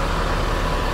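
A sleeper bus getting ready to depart on the Aceh–Medan route. Its engine idles with a loud, close, steady low rumble that fills the whole moment.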